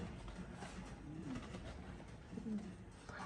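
Pigeons of fancy breeds, kept as breeding pairs, coo softly in low repeated phrases, faint and close, with a little background murmur.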